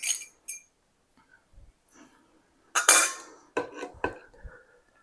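Glass canning jars, the 1.5-pint size, clink and knock against each other in a few separate sharp bursts, the loudest cluster near the middle, with quiet gaps between and no talking.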